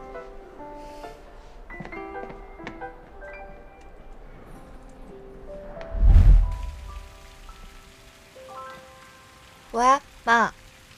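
Light rain falls steadily in Xiamen as a soft, continuous patter under background music, with a few brief louder thumps and sounds of movement.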